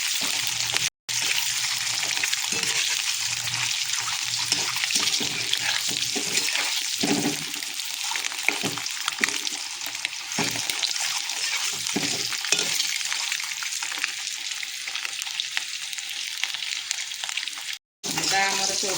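Eggs frying in a kadhai (wok) as they brown until reddish, a steady broadband sizzle and hiss throughout with stirring scrapes, close and continuous, with two brief dropouts.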